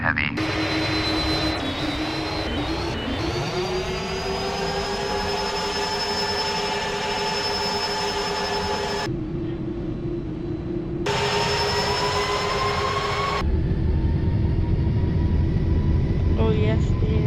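An airliner in FSX flight simulator, holding a steady jet engine roar that climbs in pitch as it spools up for a thunderstorm takeoff, loud and continuous with brief cuts and a voice talking over it.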